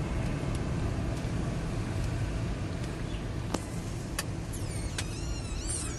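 City street traffic in Baku, Azerbaijan: a steady roar of passing cars and engine rumble, with faint brief squeaks and a distant whistle-like tone near the end, no voices.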